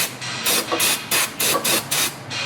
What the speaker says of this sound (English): take some carburetor spray and spray it on that axle flange